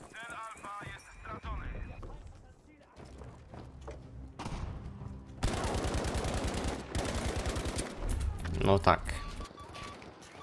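Battlefield V gunfire crackles in rapid bursts, loud and close, mixed with in-game thumps and effects.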